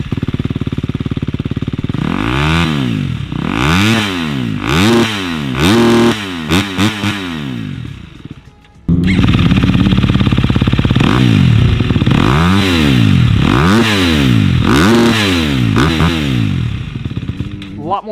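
A 2023 KTM 250 SX-F dirt bike with an FMF 4.1 RCT exhaust, running on a stand and blipped repeatedly, giving loud, close, aggressive revs that rise and fall in sharp bursts over a raspy idle.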